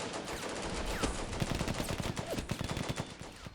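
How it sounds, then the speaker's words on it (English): Rapid bursts of small-arms and machine-gun fire crackle in a Combat Mission battle, overlapping volleys at mid distance growing denser over a few seconds. "They're rushing up and shooting back in some cases."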